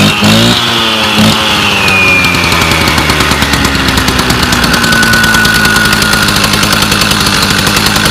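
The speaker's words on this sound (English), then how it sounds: "You just saw it was a Stihl TS350 cutoff saw or similar" A Stihl TS350 cut-off saw engine runs loud and close for the whole stretch, a rough two-stroke drone with rapid firing pulses and pitch that shifts as it revs and settles.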